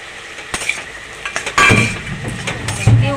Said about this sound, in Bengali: আগে দিয়ে যে উচ্ছেটা নুন হলুদ দিয়ে ভেজে রেখেছিলাম উচ্ছেটাও দিয়ে দেবো